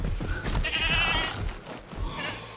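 Goat in the dinosaur video game Creta bleating loudly in a long, wavering call, followed by a second shorter bleat, close and clear over low rumbling background.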